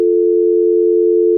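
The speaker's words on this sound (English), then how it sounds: "Oh, his phone just dropped." A telephone busy signal after a dropped call, a single loud, steady electronic tone held without a break.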